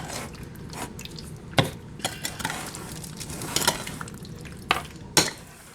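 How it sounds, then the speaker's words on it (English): A snack mixture is stirred as an ingredient is worked in, giving soft scraping and rustling with a few sharp clicks of a utensil against the bowl, close and fairly quiet. "I'm just going to sprinkle it in, stir it in."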